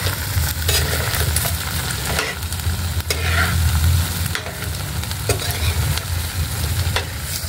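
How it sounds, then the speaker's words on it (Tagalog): Chicken adobo with eggplant stirred in a sizzling pan, a steady fry hiss broken by repeated scraping strokes of a spoon against the pan, close and loud with no talking. "At halo-haloin na po natin"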